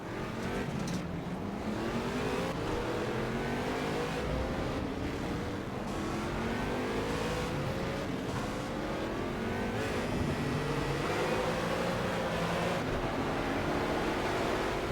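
Several race cars in a Project CARS video game race, engines droning and revving continuously as they run close together in a steady, dense roar with no voices.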